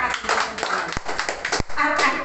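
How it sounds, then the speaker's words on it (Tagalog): Church congregation clapping loudly at a Catholic gathering, a busy, uneven patter of hands with a couple of sharp isolated claps standing out, mixed with voices. "Palakas na palakpak!"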